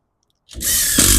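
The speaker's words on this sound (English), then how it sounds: "these are roofing screws made for attaching stuff to roofs" A power drill drives roofing screws through mesh into a roof, starting after a short silence and then running in one steady, loud, close whine.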